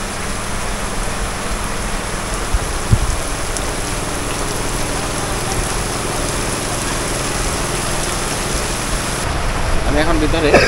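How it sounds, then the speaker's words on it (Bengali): Heavy rain falls in a steady, broadband wash that holds evenly for about ten seconds, with a faint engine-like drone mixed in beneath it. "বাইরে প্রচণ্ড বৃষ্টি কমতেছে না, বাড়তেছে আস্তে আস্তে।"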